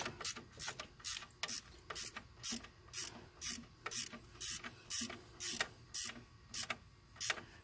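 A ratchet tightens a bolt during an alternator swap, producing steady, evenly spaced bursts of close ratcheting clicks, each stroke a short rasping run repeated about a dozen times with brief pauses between.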